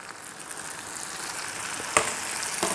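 Calamari rings deep-fry in hot oil, giving a steady, close sizzle and crackle with a couple of sharper pops.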